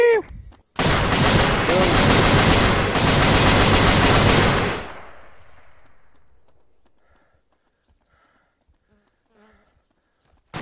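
Dense, loud bursts of gunfire in a war shooter game set in Israel, sustained for about four seconds and then cut off abruptly, with a brief shot at the start and a faint tail of shouted talk afterward.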